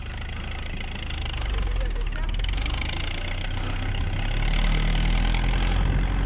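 A tractor engine running steadily in a hay field during baling onto a trailer, a loud low rumbling drone close by, constant with slight swells in power, while people call out over it.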